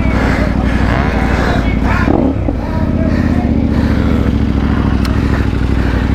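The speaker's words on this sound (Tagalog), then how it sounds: "Tayo naman nag-iingat kasi ayaw nga natin malaspag itong motor ni Master Yuan." A motorcycle engine roars loudly and continuously during an adventure-class off-road race at Alviera, with a brief clattering scrape in the middle before the steady drone resumes.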